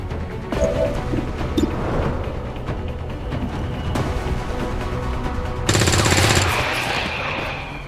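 Rapid gunfire in XCOM 2, dense bursts and bangs crowding a busy game soundtrack, with a louder, harsher volley near the end.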